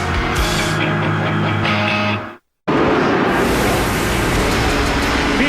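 NASCAR Canadian Tire Series race cars at Edmonton circle behind the pace car under caution, a steady, loud broadband engine roar that cuts out briefly midway before returning at full level.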